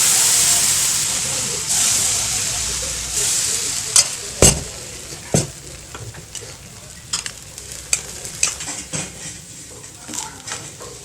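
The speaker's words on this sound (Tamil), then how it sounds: "வெங்காயம் போட்டு தோசை ஊற்ற போகிறோம்" Rava dosa batter poured over chopped onions sizzles and hisses steadily on a hot pan, with sharp clinks and scrapes of a spatula or ladle against the metal breaking through now and then.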